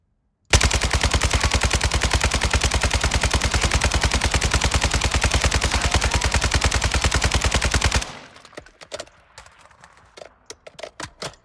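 An RPK light machine gun in Warzone 2 fires one long, unbroken automatic burst of rapid, evenly spaced shots for about seven seconds, then stops, leaving scattered sharp clicks and small knocks.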